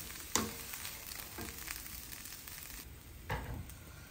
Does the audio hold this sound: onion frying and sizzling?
yes